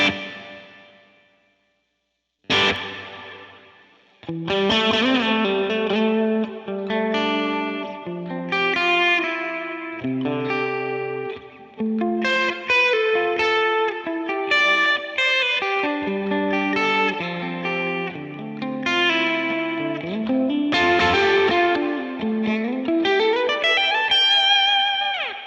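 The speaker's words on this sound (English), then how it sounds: "here's our normal reverb." An electric guitar played through a Line 6 Helix with a normal reverb rings out in a single struck chord, then flowing melodic lines with a lush lingering tail, no talking.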